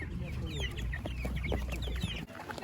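Several chickens and broiler chicks cluck and cheep close by in a busy chorus at an outdoor market, with faint voices murmuring in the background.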